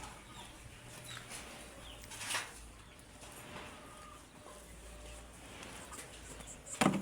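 Soft, scattered clucking from chickens nearby over a quiet outdoor background, with a sharper rustle or clatter at the end.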